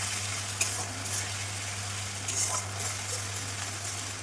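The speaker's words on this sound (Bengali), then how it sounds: "সেই মশলাটা এর মধ্যে প্রথমে দিয়ে দেব এবার এটাকে প্রথমে একটু ভেজে নিতে হবে" Ginger and garlic paste frying in a pan for a fish-head muri ghonto, a steady close sizzle under a low hum, with occasional scraping clinks of a spoon stirring, and no one speaking.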